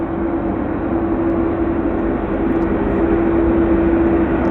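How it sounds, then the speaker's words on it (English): A Saab aircraft climbs away on takeoff at Vancouver airport, a steady broad engine roar with a sustained hum, loud and continuous throughout with no talk. "Saab getting airborne."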